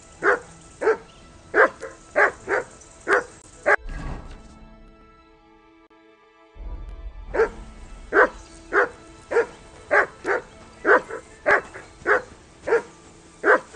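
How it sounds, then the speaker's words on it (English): A dog barks in a steady series of loud, sharp woofs in Kingdom Come: Deliverance II, pausing briefly after a few seconds before resuming the rhythmic barking. "whistle at that mutt of yours to stop barking"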